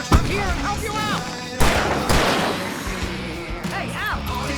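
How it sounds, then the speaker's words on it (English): Fireworks bursting in the video game Alan Wake Remastered: repeated loud booms and crackling blasts over about four seconds, mixed with whistling streaks and game music, without distinct speech. "I can set off more of the fireworks from here and help you out!"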